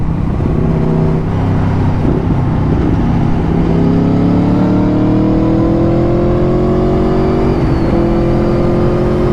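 An Aprilia Tuono 1100 V4 motorcycle pulls hard under wind noise, its engine note climbing in rising sweeps with quick-shifter gear changes dropping the pitch between pulls.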